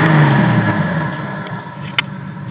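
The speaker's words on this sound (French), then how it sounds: "Allez, un dernier petit coup pour l'échappement pour entendre." A TVR sports car's engine revs hard through its brand-new exhaust, one loud close blip that swells and then settles into a lower rumble, with no talk.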